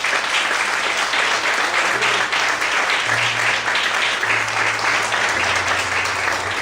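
A church congregation claps loudly and continuously, a dense wash of hands with low sustained keyboard notes changing pitch underneath.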